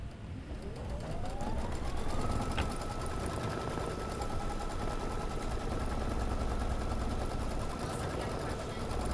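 A sewing machine runs a tacking stitch on printed fabric, its needle clattering in a fast, even rhythm that speeds up at the start and then holds steady and close for several seconds.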